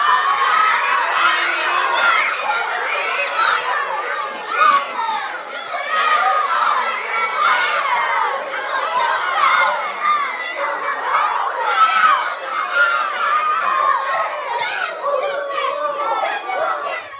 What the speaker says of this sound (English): I need you to yell at Abdul Salam like you're really, really angry at him.